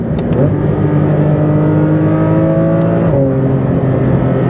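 A Porsche 992 GT3 RS's modified exhaust revs up and holds a loud, throaty drone, then the pitch drops briefly before climbing again, close and steady.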